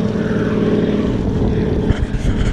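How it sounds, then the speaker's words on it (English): A float plane flies in over a lake during a fishing trip, its propeller engine droning loud and steady, with the pitch shifting slightly as it passes close by. "Float plane coming in hot."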